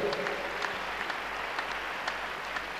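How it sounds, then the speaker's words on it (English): A church congregation claps hands during worship at a prophetic ministration service, a steady, moderately distant patter of many hands that continues evenly with little variation. "Clap your hands, church."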